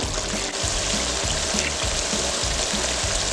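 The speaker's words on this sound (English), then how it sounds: "I'm going to let this simmer for like another 10 minutes" Cassareep chicken stew simmering in a pot, a steady close bubbling sizzle with faint liquid trickles, continuous and unbroken with no voices.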